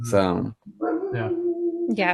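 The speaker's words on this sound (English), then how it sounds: "Sorry about my police dog next door." A police dog next door gives a drawn-out howl and whine. The sustained tone comes through clearly under and between a person's brief talk.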